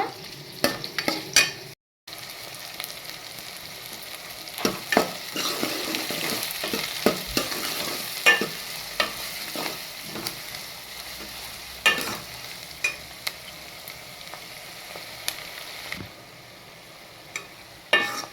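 Onions and green chillies frying with dried fish for a gongura curry, a steady sizzle with repeated scraping stirs and spatula taps running throughout, close and moderately loud, with a brief silent gap near the start.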